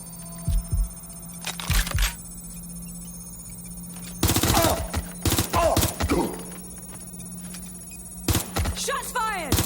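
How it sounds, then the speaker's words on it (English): Gunfire in the video game Watch Dogs: Legion: short clusters of shots at about half a second, two seconds and nine seconds, plus two longer rapid bursts, all loud and close, with a voice calling out near the end. "Shots fired!"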